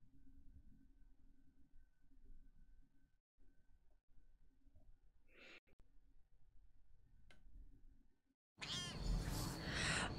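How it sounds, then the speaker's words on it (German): A cat in The Elder Scrolls Online lets out one short, sharp hiss midway over a faint ambient hum, before a loud burst of noise near the end. "Und da werde ich auch von der fauchenden Katze begrüßt."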